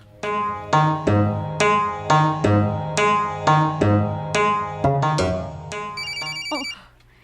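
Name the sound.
mobile phone ringtone, incoming call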